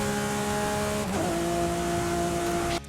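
A high-revving 770-horsepower all-wheel-drive Lamborghini engine in Forza Horizon 5 roars steadily, its pitch dipping briefly mid-way as if shifting gears, then climbing again before cutting off abruptly.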